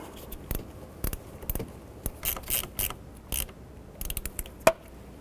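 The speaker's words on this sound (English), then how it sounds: "we're just going to use our 10mm wrench to go ahead and snug these up" A 10mm ratcheting wrench snugs the battery terminals on a 2006-2012 Honda Civic, giving close, crisp bursts of ratchet clicks in short irregular runs with pauses between strokes.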